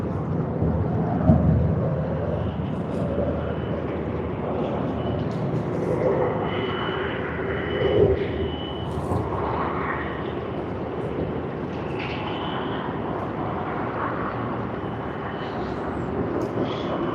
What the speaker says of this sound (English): taxiing off runway 16R. Always happy to see the Airbus A330 of Philippine Airlines.